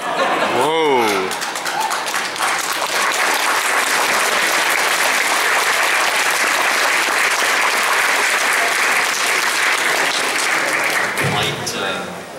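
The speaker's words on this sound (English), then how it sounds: "Applause." A convention panel audience breaks into sustained applause, dense clapping filling the hall for about ten seconds after a brief vocal moment, then tapering off.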